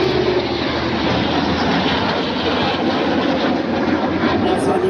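An Airbus A400M Atlas military transport aircraft flying at an airshow, a loud, continuous, steady engine roar with no break throughout.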